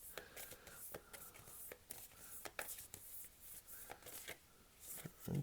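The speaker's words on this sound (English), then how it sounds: "I shuffle these until one stands out to me or refuses to shuffle back in." An oracle card deck is shuffled by hand up close, producing a quick, uneven run of soft papery flicks and slides, with faint breathy background noise.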